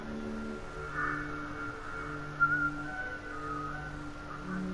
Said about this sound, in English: Who keeps whistling?